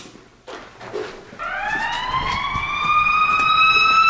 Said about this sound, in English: multiple ambulances, and multiple police cars go by very fast, lights and sirens